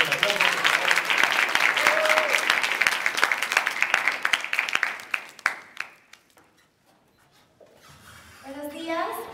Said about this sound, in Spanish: Recibámoslas con un fuerte aplauso.